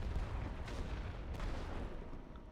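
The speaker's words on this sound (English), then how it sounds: "We're just going to assist our guys by dropping some artillery." Artillery fire in a Second Battle of Ypres battle game: low, rumbling booms rolling continuously through a dense battlefield din, with a couple of sharper blasts rising above it.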